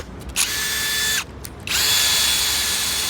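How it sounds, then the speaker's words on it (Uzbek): A 21-volt, 4-amp cordless drill screwdriver runs in a high-pitched whine in two bursts, dropping out briefly between them, close and loud with no talk. "21 volt 4 amperli shurupayvorimiz."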